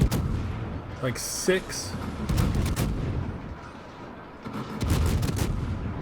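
Gun salvos from the French tier-10 cruiser Colbert in World of Warships, a rapid string of loud booming shots in bursts over a rumbling battle background, with someone talking briefly over them.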